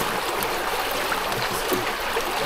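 A river rushing over stones outdoors near the village of Prevala, a loud steady broadband roar of flowing water at close range, with no voices.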